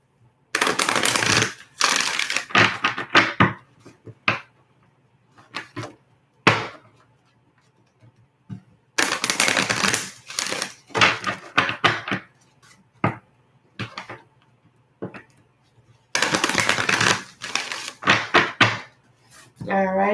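Oracle cards being shuffled in three long bursts of dense, crisp riffling, separated by quieter stretches of scattered taps and card handling, close and fairly loud.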